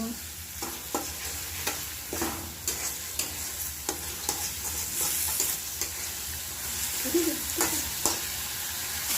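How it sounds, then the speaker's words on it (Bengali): Peas and mixed vegetables are stir-fried in a pan, with a steady sizzle punctuated by regular scraping and clacking strokes of a spatula, close and clear throughout. "এখানে আমরা এই অল্প মটরশুঁটিগুলো দিয়ে দিচ্ছি দিয়ে ভালো করে কষিয়ে নেব"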